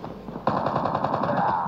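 Rapid automatic gunfire in the Call of Duty Mobile shooting tutorial, a fast rhythmic burst of shots that starts abruptly and continues steadily, loud and close.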